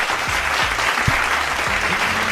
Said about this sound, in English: Let me clap it up for myself.